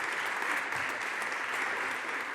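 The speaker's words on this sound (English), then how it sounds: "Let's give him a round of applause" A crowd applauds Senator Chuck Schumer at an event marking the completion of Plug Power's manufacturing facility. The clapping is steady and dense, moderately loud, and carries on unbroken with no speech over it.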